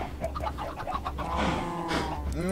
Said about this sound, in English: Got so many chickens, if some get loose,